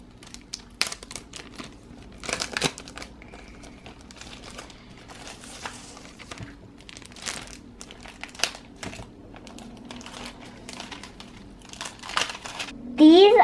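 Packaging of a Bitsbox coding subscription box crinkles, rustles and tears in short irregular bursts up close, with speech mixed in and a louder burst at the very end.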